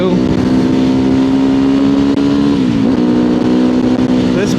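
Motorcycle engine droning steadily and loud during a street ride, with a steady hum that dips briefly in pitch before settling, and continuous wind and road noise throughout.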